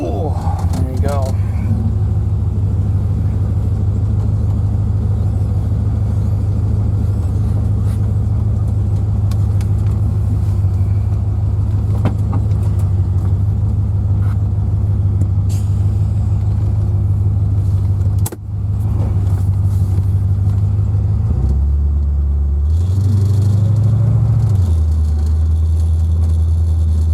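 A 1984 Corvette Z51 with a swapped-in 5.3 LS V8 drones steadily at low pitch while driving, a constant close engine hum with a brief dip and a slight rise in tone near the end.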